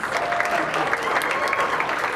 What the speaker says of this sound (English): So can I get a round of applause for PulseSpark, please?